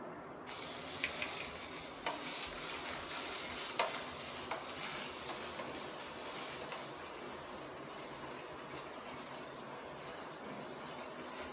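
Two tablespoons of butter sizzling in a white pan, a faint, even hiss that holds steady throughout with a few light clicks early on.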